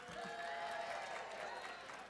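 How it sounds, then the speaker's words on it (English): An evening science-center audience applauds and cheers for a scientist, a brief, fairly faint wash of clapping and crowd noise heard from a distance. "I think she needs a big cheer"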